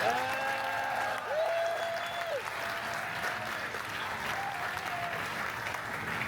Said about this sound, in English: can we give a round of applause to our team at Sandals?